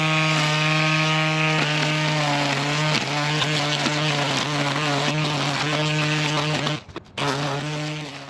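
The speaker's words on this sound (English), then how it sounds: "what I'm using here is a Works brand weed trimmer, but it also converts to an edger" A Works brand weed trimmer, convertible to an edger, runs loud and close with a steady high motor whine, holding nearly constant before a brief dip and restart near the end.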